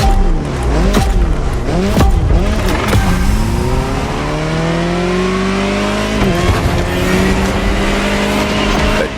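Jaguar CX-75 concept car driving in a racing video game, the engine revving hard through gear changes and then holding a long, steady high-pitched drone, loud and close with some tire noise.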